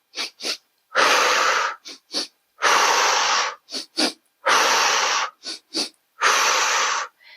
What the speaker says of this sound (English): 2 breaths in through the nostrils, pulling the nostrils to the inside, and 1 breath out.